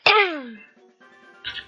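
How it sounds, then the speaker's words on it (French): A single deliberate cough from a person, loud and harsh at the onset and trailing off over about half a second, followed by a short, quieter burst near the end. "Attention, je vais tousser."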